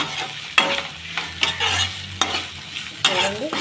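Green and red capsicum being stirred in a pan for a mill maker curry, with repeated sharp scraping strokes of a spatula over a steady sizzle, close and fairly loud, no voices.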